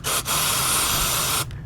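A single sustained hiss of CRC cleaner sprayed into a Toyota Camry's throttle inlet, lasting over a second, close and loud, after a brief initial burst.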